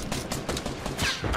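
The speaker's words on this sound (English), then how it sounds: "I shot him down." A double barrel shotgun fires in the video game Fortnite, a close, sharp volley of several blasts in quick succession, mixed with other game noise and no talking.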